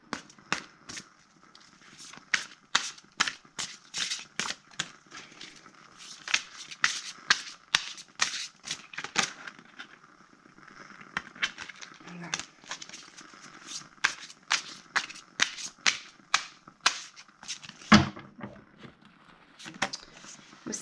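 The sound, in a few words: shuffling oracle cards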